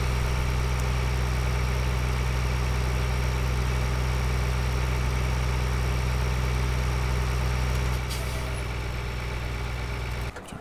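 A tractor engine idles in Farming Simulator 2013, a steady low drone that holds evenly for about eight seconds, then drops slightly in level near the end, with no talking.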